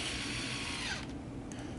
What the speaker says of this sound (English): then screw it into place with 3-inch deck screws